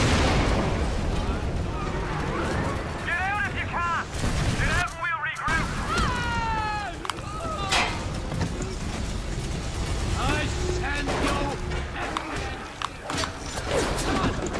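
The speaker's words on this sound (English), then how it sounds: "Okay, they're downstairs and they're shooting at me." Enemy gunfire in BioShock from splicers shooting up from downstairs, scattered cracks and bangs among clanking mechanisms and chirping effects, mid-distance and fairly steady over continuous game noise.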